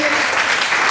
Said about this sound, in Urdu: تو میں چاہوں گا بھرپور طریقے سے تالیاں ہونی چاہیے